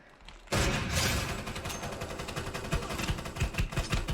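Rapid bursts of gunfire from the Free Fire video game crackle loud and close after a quiet start, with repeated sharp shots in quick succession and no talking.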